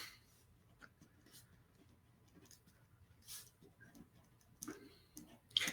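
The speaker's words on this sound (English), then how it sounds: "I'm going to write down 3 things here." A pen scratches on paper as a short list of three items is written down: faint, intermittent strokes and taps in a quiet room, with no talking.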